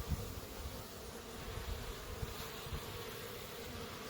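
Honey bees leaving a large hive make a faint, continuous buzzing drone with low rumbling pulses, steady and unbroken.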